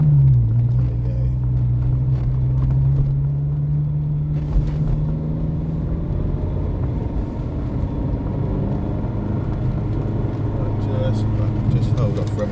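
A Ferrari California engine on the Castle Combe Circuit climbs in pitch, then shifts up to second gear, with the steady drone heard from inside the car while someone talks over it.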